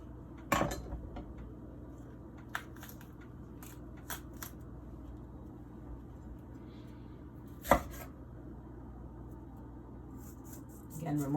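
A knife cuts green and red bell peppers on a board in a kitchen, with a few sharp chops and scattered lighter taps and knocks separated by quiet stretches.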